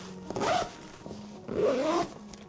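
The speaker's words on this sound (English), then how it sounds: "It has the really cool zippers that I like so much" Zipper on a carry-on travel backpack pulled in two quick strokes, each drag lasting about a third of a second with a gap between, close and clear with no talk.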